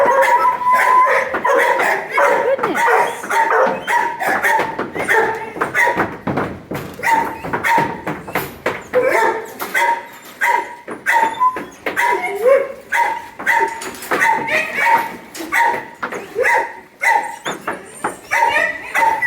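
Several excited dogs howling and barking together in a loud, sustained chorus, with choppy yips and long wavering howls overlapping throughout, close by and filling the space.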